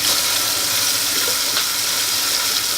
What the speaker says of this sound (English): We're gonna go ahead and turn some running water on.